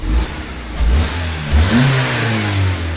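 A car engine with a P0172 running-rich fault revs as throttle is applied, with several rising and falling surges over a steady idle, loud and close with no talking.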